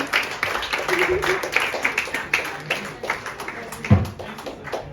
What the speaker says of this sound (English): So just clap for him